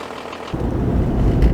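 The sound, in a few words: Toyota Land Cruiser engine running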